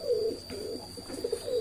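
Soft, low coos of racing pigeons murmur repeatedly at close range over a faint, steady high-pitched whine.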